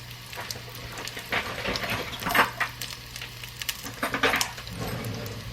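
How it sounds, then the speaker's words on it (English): Vegan sausages sizzle in a frying pan, a soft steady crackle running under intermittent clinks and scraping as they are turned over, fairly quiet and close. "it's time to flip my sausages"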